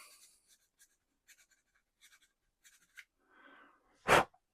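A flat file works a plastic part from a Tamiya 1/12 Suzuki RGB500 model kit in short, quiet scratchy strokes, with a sharper, louder burst near the end.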